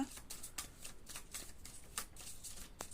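A deck of tarot cards is shuffled up close, giving soft, quick riffling bursts in an uneven rhythm as a card slips loose.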